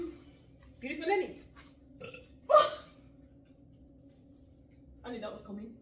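A single loud, throaty burp from an adult, set between stretches of talk and laughter nearby.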